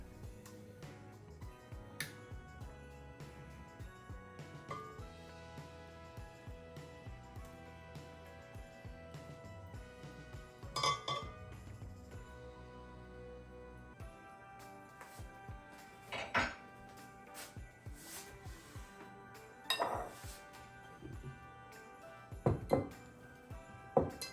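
Heavy, elastic bread dough is worked off a metal stand mixer paddle, producing scattered metallic clinks and taps against the bowl, with sharper knocks coming in irregular bursts over quiet kitchen background.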